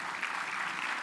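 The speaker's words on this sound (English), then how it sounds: "Let's give them a round of applause." Brief burst of audience applause at a business legislative summit keynote, a steady wash of clapping from a crowd lasting about a second.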